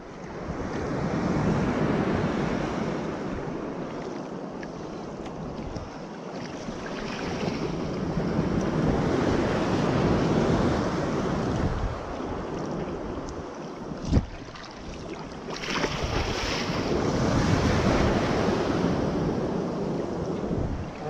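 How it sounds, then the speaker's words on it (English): Steady rushing surf with small waves plunging close by on a steep beach at Twofold Bay, a constant wash of noise and an occasional sharper crash, no voices. "Very steep beach with little plunging waves."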